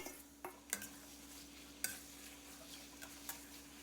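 Marinated pork stir-fried in a pan with garlic and pepper: a faint, low sizzle runs underneath while a few sharp spatula clicks and scrapes sound against the pan at irregular intervals, with no talking.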